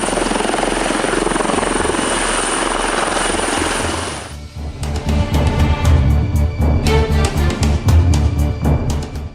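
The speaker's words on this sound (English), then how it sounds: "a few AW-159 Wildcat helicopters do most of the work" An AW-159 Wildcat helicopter roars loudly at close range, a steady rotor and engine wash giving way to a rapid, rhythmic chopping of blades that continues to the end.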